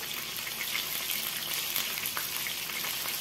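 A flour mixture is stirred quickly in a hot pan, producing a steady, even hiss and sizzle with faint scraping throughout and no voices.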